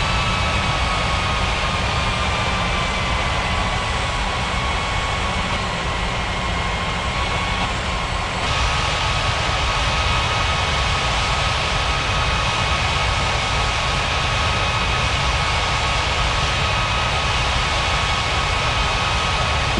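Airplane jet engines hum in an air traffic control video game as planes taxi to runway and gates, a steady loud drone with whining tones that persists throughout, no talking.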